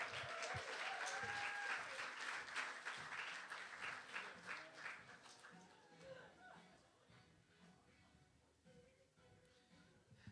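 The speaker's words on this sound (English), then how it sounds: "please, a warm round of applause for the one, the only, Josh the intern" Dense audience applause at a comedy night welcomes a comedian to the stage, loud at first and then thinning and fading over several seconds, with some crowd noise and faint voices beneath.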